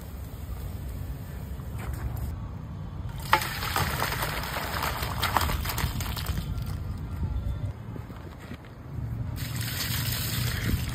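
Cold water runs and splashes over boiled chicken feet being rinsed in an outdoor tribal cooking setting, a steady trickling wash that rises and falls in bursts for several seconds.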